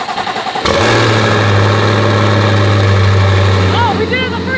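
A rebuilt twin-turbo C8 Corvette engine cranks and fires up after a brief quiet start, then settles into a loud, steady idle with a deep rumble that holds to the end.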